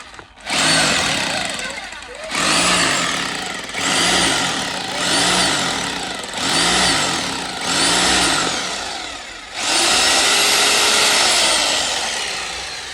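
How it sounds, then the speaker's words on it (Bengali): A powerful drill bores into concrete in a series of about six loud bursts, each rising and falling with the grinding whine of the bit, a short pause between them and a longer final run, close by, with voices in between. "কি শক্তিশালী ড্রিল এটা! হ্যাঁ, এই কংক্রিট এরকম মানে সুই সুই করে ঢুকে গেল ড্রিল।"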